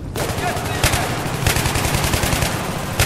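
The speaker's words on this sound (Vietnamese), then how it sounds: "Ủa, cái thanh niên này thấy gì mà bắn vậy." Sustained machine gun fire in Battlefield 3, a dense loud rattle of rapid shots with a few heavier bursts standing out, continuing throughout without a break.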